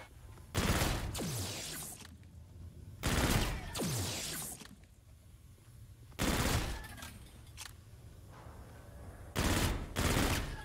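Weak gun firing in Call of Duty: Infinite Warfare zombies mode, four separate loud bursts of rapid shots spaced a few seconds apart, each trailing off into lingering echo.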